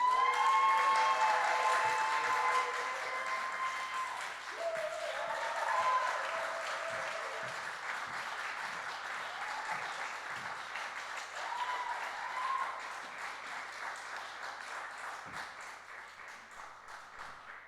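An audience applauds after a moving poem at a creative scratch-night performance, with sustained clapping that starts loud and slowly fades while some higher whistles or cheers and murmurs come through early on.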